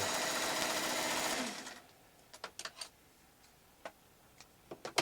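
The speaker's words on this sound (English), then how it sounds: "This is a 1960s sewing machine, and it works like it's brand new." A 1960s sewing machine whirs rapidly and loudly for about a second and a half, then stops, leaving a few scattered clicks and taps.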